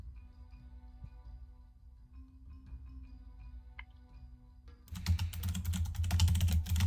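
Rapid typing on a computer keyboard bursts in near the end, dense clicking loud and close after a quieter stretch of faint background hum, with no talking.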